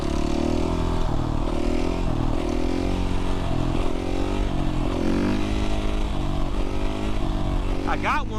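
A Suzuki RMZ450 supermoto motorcycle riding in third gear, its engine droning steadily and loudly with shifting pitch throughout, heard up close with wind noise and someone talking over it.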